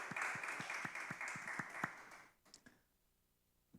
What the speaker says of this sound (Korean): 우리 하나님 앞에 영광의 박수를 올려드립시다